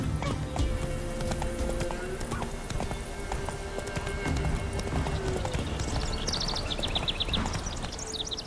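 A horse gallops in a fantasy video game with rapid rhythmic hoofbeats, snorting and a whinny, over steady ambient game sound, with bird-like chirps near the end.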